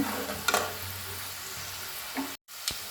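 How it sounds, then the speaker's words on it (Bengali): Garlic cloves frying in oil for a dried chili and garlic pickle make a constant close hiss, punctuated by a couple of brief stirring scrapes and one abrupt dropout. "এখন আমি রসুনগুলো একটু ভেজে নেব"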